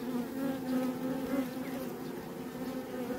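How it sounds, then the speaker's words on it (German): Honey bees buzz steadily at an open hive while a new queen is introduced, a dense continuous drone close by with no talking. "Es sind gar nicht mehr so viele Bienen."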